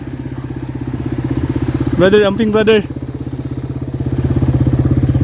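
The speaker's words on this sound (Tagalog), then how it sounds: "Laka ni motor." A motorcycle engine idles steadily at close range with an even, throbbing rhythm, and someone speaks briefly over it partway through.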